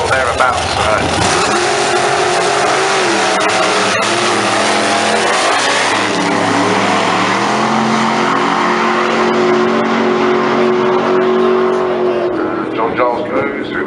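Drag racing cars make a steady, loud engine roar at Santa Pod Raceway, lasting through the whole run with rising and falling pitch, while a commentator talks over it.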